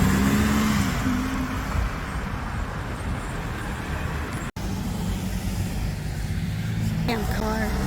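A car drives past on a street in West Hollywood, a broad roadway rush that is loud at the start and slowly fades, with a short dropout midway and a faint engine rise near the end.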